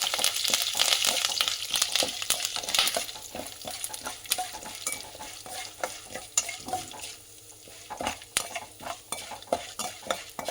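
Curry leaves dropped into hot oil for rava idli batter sizzle and crackle steadily, with frequent metal spoon clinks and stirring scrapes throughout, close and fairly loud, no voice present.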